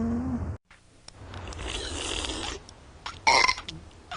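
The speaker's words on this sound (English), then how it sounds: "We're having a burp contest, Mom." A cartoon character from The Simpsons lets out long, raspy burps during a burping contest: one drawn-out rumbling belch, then a shorter loud burst near the end, close and prominent with no talking.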